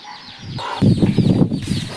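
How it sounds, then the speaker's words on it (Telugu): Chickens with chicks at a family home in the countryside, a cluster of close, loud clucks and chattering calls with some wing flutter, continuous and without speech. "అవి మా కోడి పిల్లలు అనమాట"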